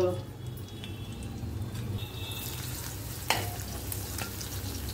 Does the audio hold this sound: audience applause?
no